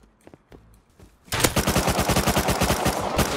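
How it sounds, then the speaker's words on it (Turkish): Gunfire in a firefight in the survival video game Rust breaks out after a few quiet clicks, with rapid, loud bursts of shots continuing steadily to the end. "Soldan da çatışma var."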